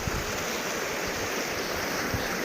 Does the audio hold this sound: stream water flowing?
yes